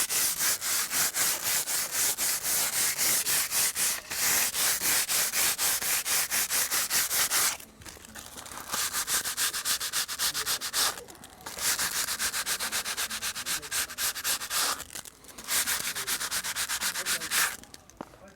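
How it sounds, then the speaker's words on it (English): Sandpaper rubbed by hand over a boat hull before antifouling, a loud, steady rasping scrape in rapid back-and-forth strokes, broken by short pauses between bursts; no talking. "Once I've done that, I then take my sandpaper and I just rub"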